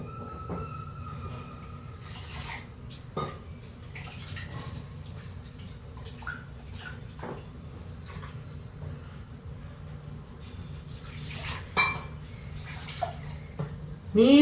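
Water runs from a kitchen tap during breakfast preparation, a soft continuous stream with scattered clinks and small knocks over it, ending with a louder splash.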